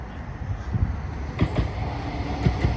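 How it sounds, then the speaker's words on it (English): A Blackpool tram passes along the shoreline promenade, giving a low rolling rumble with a few soft rhythmic thumps over steady background noise. "Another tram there"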